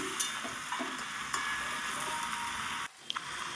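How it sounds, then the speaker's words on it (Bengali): Masala is stirred and sautéed with spinach and winter vegetables in a pan, making a steady, close frying hiss with soft stirring squishes and a brief pause near the end before faint clicks. "দেখুন ভালো করে মশলাটাকে একটু কষিয়ে নেব"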